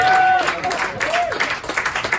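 Audience at a live concert at Tunnel Vienna applauding, a dense burst of clapping with whoops and crowd voices rising over it, fading slightly toward the end.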